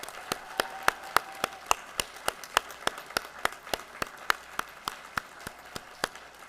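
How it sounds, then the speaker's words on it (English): Scattered clapping from a small audience at a retiring faculty ceremony, sharp distinct claps in an uneven rhythm, moderately close and fairly sparse. "will you join me in one more round of applause for all our retiring faculty?"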